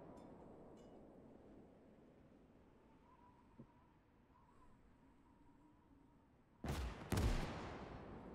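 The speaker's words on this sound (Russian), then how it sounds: "О, троих одним выстрелом." Gunfire in the WWII strategy game Gates of Hell: Ostfront, a faint lone crack early, then two loud, sharp shots in quick succession near the end over a low battlefield rumble.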